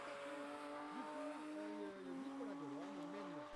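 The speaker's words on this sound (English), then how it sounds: "But it's a spin out, and it's 10-0 for Nicolas Delorme" A Ford Mustang drift car at a French Drift Championship round in Chamrousse revs and wails with sweeping engine pitch changes as it spins out, heard close and steady under continuous commentary.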